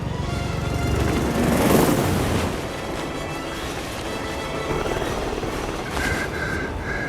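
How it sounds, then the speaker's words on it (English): A helicopter takes off in the Hitman World of Assassination video game, a loud steady rotor and engine roar swelling and holding throughout, with game music and effects layered over it. "helicopter just took off"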